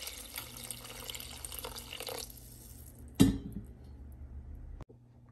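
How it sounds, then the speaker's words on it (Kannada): Water pours from a vessel into a pan of frying bottle gourd and lentils for sambar, a steady rushing stream that stops, then a sharp clink and a few faint drips. "ಈಗ ಇದಕ್ಕೆ 1-2 ಕಪ್ ಆಗಷ್ಟು ನೀರು ಹಾಕ್ತಾ ಇದ್ದೀನಿ"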